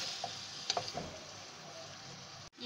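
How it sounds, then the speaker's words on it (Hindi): Masala frying and roasting in a pan, a soft steady sizzle with a few sharp ticks and scrapes of stirring early on, faint and close, ending in a brief cut. "आंच थोड़ी बढ़ा देंगे और इसे अच्छी तरह भून लेंगे।"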